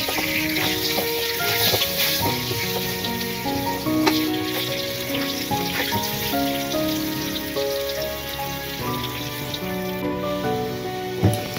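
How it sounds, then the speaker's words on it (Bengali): Potato pieces fry in hot oil for a village-style desi chicken curry, a steady crackling sizzle with bright pops, while faint tonal music plays underneath and nobody speaks. "আলুগুলোকে সুন্দর করে লাল লাল করে ভেজে নেব"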